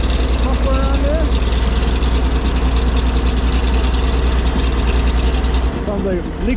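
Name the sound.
4x4 engine idling through a Nelson muffler, slightly leaking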